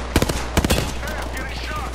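Gunfire in the video game Apex Legends: sharp, loud bursts of automatic shots in quick clusters with short gaps, a final burst at the end, over a low hum and faint game effects.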